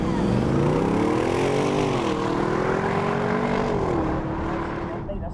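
Bentley car accelerating on a racetrack, recorded from inside, a loud, steady engine drone with rising and shifting pitch that eases off toward the end.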